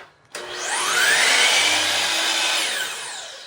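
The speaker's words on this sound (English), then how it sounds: "Let's saw this piece off." A power saw starts up and whines loudly through wood for about three seconds, a steady close-up buzzing cut with no talking.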